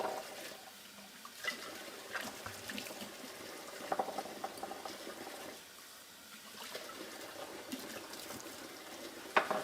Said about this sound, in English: I'm going to give them all a good rinse